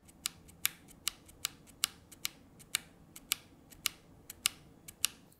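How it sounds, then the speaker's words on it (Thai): ROG Strix Scope RX TKL keyboard with bare RX switches and no keycaps, pressed in a quick, uneven run of about twenty sharp clicks, close and alone in a quiet room. "เราจะมาทำการฟังเสียงคีย์บอร์ดตัวนี้กันค่ะว่าเสียงของ RX Switch เนี่ยมันจะเป็นยังไง"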